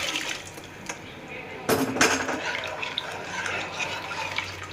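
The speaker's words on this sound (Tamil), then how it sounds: "இப்போ குடல் வெந்ததை அதை ஊற்றிக்கலாம்." Cooked tripe and its liquid slosh and splash into a pan with a brief clatter of metal, moderately close, over a low kitchen background, while making tripe curry.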